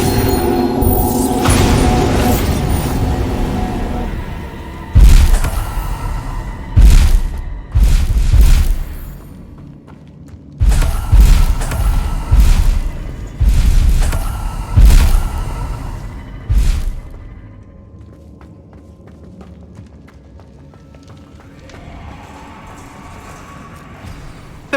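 Bombarda explosion spell blasts in Hogwarts Legacy, with a run of loud booming bursts spaced a second or two apart over rumbling combat, then fading to a quieter ambient tail.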